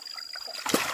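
A large freshly caught fish thrashes in a basin of water, throwing up a sudden loud splash near the end after a moment of quieter sloshing.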